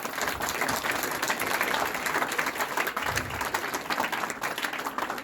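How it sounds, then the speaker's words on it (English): An audience applauds students after an interdisciplinary project presentation on Indian space research, a dense, even wash of many hands clapping for several seconds at steady volume. "Let us clap for them because they worked so hard"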